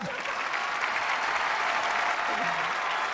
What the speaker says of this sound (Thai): ขอเสียงปรบมือครับ